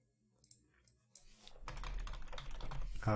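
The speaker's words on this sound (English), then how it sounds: "Why am I typing?" Keyboard typing begins after a few scattered clicks, becoming a steady, dense run of keystrokes up close, with no talking.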